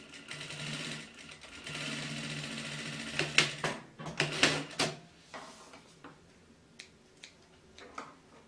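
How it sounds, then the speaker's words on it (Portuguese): A sewing machine runs in close bursts while stitching a safety seam through fabric for a fan-shaped manicure case, followed by a few short clicks and handling knocks. "aqui eu vou passar uma costurinha de segurança"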